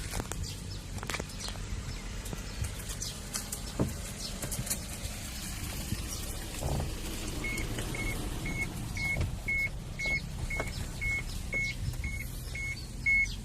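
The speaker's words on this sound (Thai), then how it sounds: "เดี๋ยวผมพาสตาร์ทเครื่องแล้วก็ฟังเสียงเครื่องกันพี่น้องนะครับ" A 2005 Isuzu D-Max pickup's 2.5-litre common-rail diesel engine idles steadily and close by after starting, a low continuous rumble, with a repeated electronic beeping chiming in over the second half.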